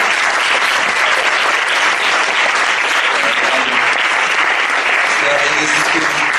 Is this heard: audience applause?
yes